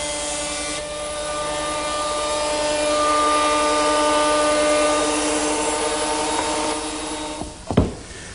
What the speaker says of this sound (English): it only takes a few minutes to run each board through the surface plane.